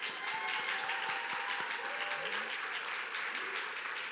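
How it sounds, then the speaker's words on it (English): Audience applauds at a college of nursing graduation ceremony, a steady wash of clapping from a large crowd filling the hall, with a few voices faintly underneath. "You can clap."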